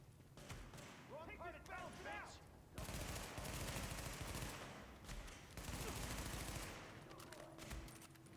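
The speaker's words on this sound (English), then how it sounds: "Oh, getting shot at." Sustained gunfire rattles through a stadium firefight in The Division, steady bursts and volleys filling most of the stretch, with someone talking over the opening moments.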